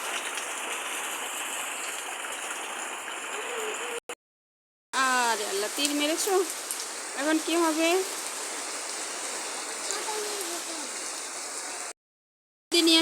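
Rainwater pours down around a house in a steady rushing stream while several people talk, with a couple of brief dropouts.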